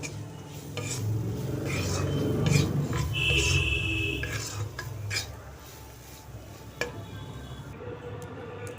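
Grated coconut is stir-fried in a pan and gives a low, steady sizzle. A spatula scrapes and clinks against the metal again and again, with a short high whine partway through and no voices.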